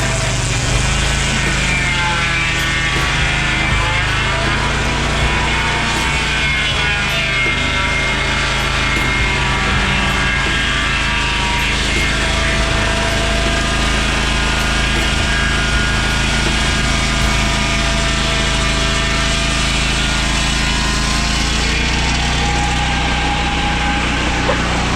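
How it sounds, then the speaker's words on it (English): An engine-driven saw cuts a log with heavy timber bind into boards for 2x4s. A loud, continuous whining engine drone with a steady hum holds throughout, shifting slightly under load. "If you listen to the saw on these cuts, you can really hear it not enjoying what we're getting into here."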